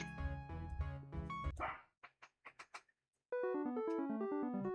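Barks and yips from a dog character in an indie RPG, several short sharp calls in quick succession between bursts of game music, loud and close.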